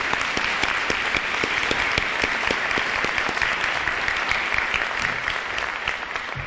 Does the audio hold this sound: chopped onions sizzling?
no